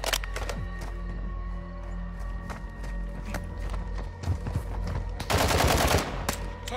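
Rapid automatic gunfire from a military shooter game set in a denied combat area, dense bursts layered over steady background noise, with a louder, closer volley near the end.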